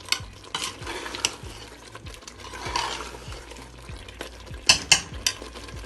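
Ginger fries in a pot of deghi qorma, a continuous sizzle broken by repeated spoon strokes and stirring scrapes, with a few sharper metallic clinks near the end.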